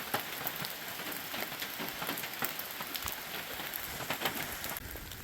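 Steady outdoor rain and drizzle patters continuously on surfaces near a trail on a gray day, a dense hiss of drops with no voices.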